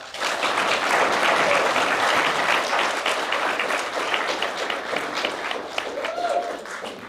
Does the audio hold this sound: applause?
yes